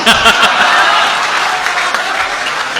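An audience at an Urdu poetry recital breaks into loud, close applause, with a burst of clapping that slowly thins out over a few seconds.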